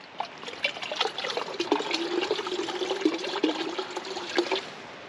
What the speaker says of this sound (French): Une fois que vous avez vidé un petit peu vos gourdes